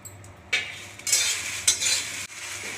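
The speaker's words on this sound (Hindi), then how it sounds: "इसे भी इसी तरीके से भूनना है जिससे इसका अच्छा महक आने लगे" Spices for mango pickle roast in a pan with a soft sizzle, punctuated by several close scraping stirs of a spoon against the metal.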